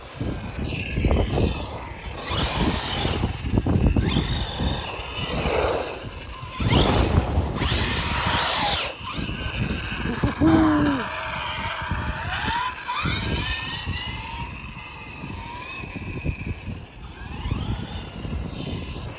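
Hobao Hyper SS cage truggy RC car with a 2000 kV electric motor running on 4S, its motor whining and rising in pitch through fast passes and turns, loud and varying in distance over outdoor wind noise.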